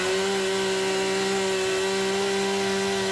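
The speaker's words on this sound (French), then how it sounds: "Mais la tronçonneuse ne suffit pas." A chainsaw cuts wood at a relief work site, running at a constant high pitch with a loud, unbroken whine and no pauses.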